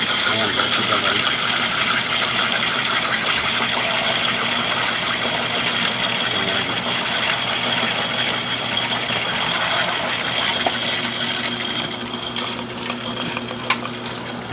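Continuous loud motor drone from a homemade peanut butter grinder driven by a washing machine motor, grinding peanuts with a steady whirring hum and rattle throughout, close and unbroken.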